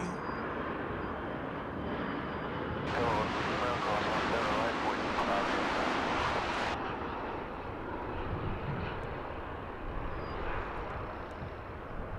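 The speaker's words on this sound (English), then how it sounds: "Flight 1395 is the 737-800. Right here on Runway DFW." A Boeing 737-800 airliner at DFW airport roars past in a steady, loud wash of jet engine noise that swells sharply through the middle and then eases back, with a person talking over it.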